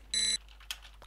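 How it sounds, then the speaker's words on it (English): High-pitched beep from a wrecked hovercraft in Space Quest 2, a single short sharp electronic tone followed by a faint click. "You hear a high-pitched beep."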